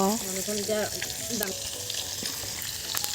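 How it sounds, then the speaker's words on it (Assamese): Fish sizzles steadily in a hot pan as part of a home-cooked Magh Bihu meal, a dense close hiss with faint voice-like tones at the start. "খানাৰ কাৰণে ৰেডি হৈছে মাছ, এয়া ভাজি আছে আৰু এয়া মাংস।"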